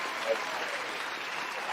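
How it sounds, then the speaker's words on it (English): Applause from an audience greeting a guest on a talk show, a steady broadband patter of clapping lasting throughout, with speech tagged faintly alongside. "I approve of all this applause."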